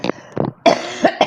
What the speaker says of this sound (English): Okay, I have to cough.